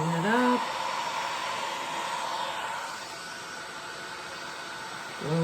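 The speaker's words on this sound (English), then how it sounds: "heat gun, warm it up." A heat gun blows hot air over alcohol ink in a continuous, breathy hiss like a hair dryer, fading slightly partway through, with a voice briefly heard at the start and end.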